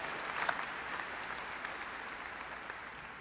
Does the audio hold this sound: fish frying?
no